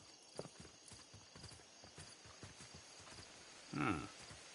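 Horse hooves clip-clop steadily at walking pace in the Western video game Red Dead Redemption, fairly quiet and close, ending in a louder snort or whinny near the end with no talk over it.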